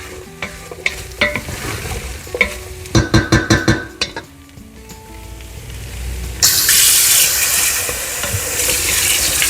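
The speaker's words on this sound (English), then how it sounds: "So now it's time to add the water." Water goes into a pot of cooked chicken with clanking stirs and scraping, then a loud rushing pour and bubbling sizzle that fills the pot, with no talk.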